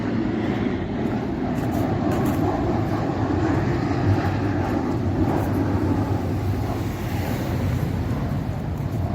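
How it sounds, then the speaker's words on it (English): A low-flying airplane roars overhead in the Urca neighborhood of Rio de Janeiro, a steady, heavy rumble that fills the whole stretch without letting up, fairly loud and near. "You can hear the plane is flying low"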